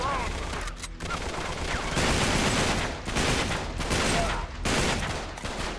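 Bursts of gunfire in Uncharted 3: Drake's Deception come in repeated heavy volleys, loud and close, separated by short lulls, with game sounds layered underneath.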